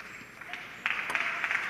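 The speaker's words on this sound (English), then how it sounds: "Clapping on their player, but not getting overly excited just yet" Spectators clap for a Ukrainian player at an ITTF World Championships women's table tennis quarter-final, a short, faint patter of applause that grows a little louder partway through.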